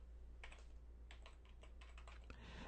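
Keystrokes on a computer keyboard as words are entered into data fields: quiet, close bursts of rapid clicking separated by short pauses, with a brief louder key press near the end and no talking.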